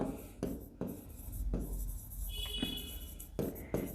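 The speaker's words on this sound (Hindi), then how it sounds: "यहां पर लिखेंगे हम जनरल रिजर्व" A pen writes on paper up close, quiet scratchy strokes in short bursts separated by brief pauses, with a faint tonal squeak in the middle.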